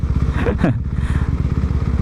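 A motorcycle runs through heavy city traffic with a steady, loud, throbbing engine note throughout and a brief whooshing pass of a nearby vehicle.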